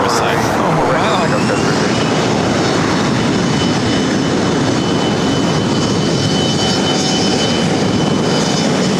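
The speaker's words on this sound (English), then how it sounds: "So we're going to have 2 Asiana A380 arrivals here on the north side" An Asiana Airbus A380 arrives on the north side at LAX, a loud, steady roar of jet engines filling the whole stretch as it passes close by.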